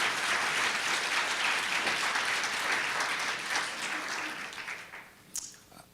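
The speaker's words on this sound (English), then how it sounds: "let's give all of our CARRE Visionary Award winners a big round of applause." A large conference audience claps steadily for award winners, the dense applause holding strong before gradually thinning and fading toward the end.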